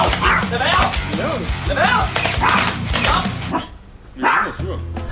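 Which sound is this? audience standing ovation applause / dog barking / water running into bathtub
dog barking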